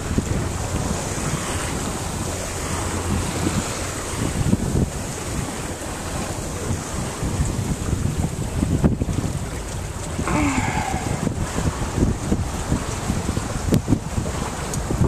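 Sailboat under way in steady wind on open water on a sailing trip to Pumpkin Key, with constant loud wind buffeting the microphone and rushing waves throughout, no voices.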